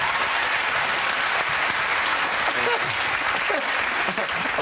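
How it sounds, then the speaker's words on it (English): A studio audience on a TV talk show claps steadily, a dense and loud wash of applause held evenly from start to finish, with faint voices mixed into it. "Niall down the end just clapping."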